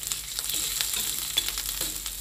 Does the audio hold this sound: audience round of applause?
no